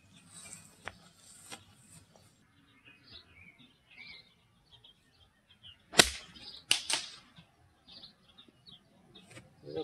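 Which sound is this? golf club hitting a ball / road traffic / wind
golf club hitting a ball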